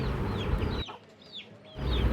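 An Aseel fighting rooster clucks in short, repeated calls, fairly close, over a steady background hiss.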